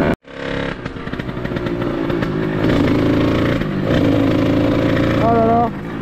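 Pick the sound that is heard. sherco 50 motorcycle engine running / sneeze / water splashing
sherco 50 motorcycle engine running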